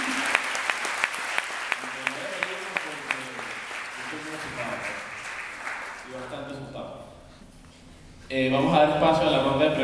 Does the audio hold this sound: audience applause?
yes